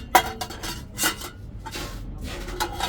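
Steel cookware being handled: a 5-litre steel pressure cooker, a lidded cookware piece and a gas stove, giving a few sharp metallic clanks and scrapes at irregular intervals, close by and moderately loud, with no talking.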